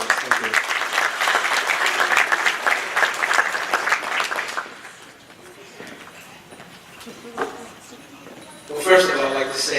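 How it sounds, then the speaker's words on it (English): Applause at a 25th wedding anniversary party, a burst of group clapping that dies away after about five seconds into quieter room sounds and voices, then a short flare of cheering near the end. "Round of applause, please."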